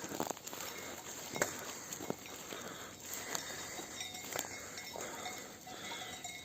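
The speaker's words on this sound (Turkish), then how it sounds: "koyunlar yoncada yeliyor" Sheep grazing in an alfalfa field, with soft cropping and rustling, faint bleats, and occasional clinks like a cowbell or neck bell at a steady distance, nothing loud or close.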